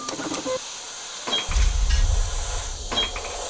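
Airbrush hissing paint over a stencil in short bursts, a faint spray sound rising and stopping with a low rumble beneath, close and steady with no talk.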